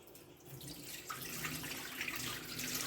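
Tap water runs steadily into a sink while homemade butter is washed, a continuous close splashing stream with no talking.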